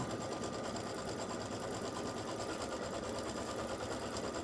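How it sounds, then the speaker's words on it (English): A home embroidery machine stitches a placement outline on a 9.5-inch square of fabric for an 8-inch design, giving a steady, fast, continuous mechanical whirr and needle chatter at an even level from start to finish, with no voices. "you can use the placement stitch to center your fabric"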